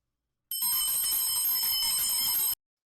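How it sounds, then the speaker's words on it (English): A single bright metal bell rung close by, a sustained shimmering ring of about two seconds that stops abruptly, with silence before and after. "Let me just ring my bell here"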